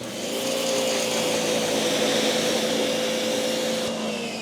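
Pressure washer spraying 3W car floor liners, a loud continuous hissing rush with a steady motor hum, close and unbroken throughout.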